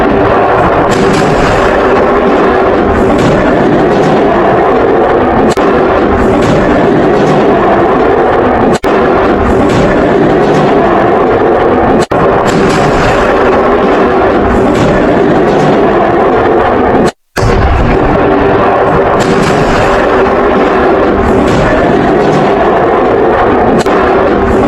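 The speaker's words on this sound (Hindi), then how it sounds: "माल्टा की पटाखा फैक्ट्री में आग लगी थी, उसके बाद धमाका हुआ।" A firecracker factory in Malta explodes in a dense, continuous barrage of loud blasts and crackling bursts that lasts nearly half a minute, broken by one brief dropout. No one speaks.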